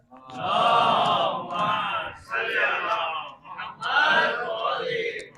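A crowd at an Eid-e-Mubahila religious gathering chants a devotional salutation in unison, several loud rising-and-falling phrases in rhythmic bursts.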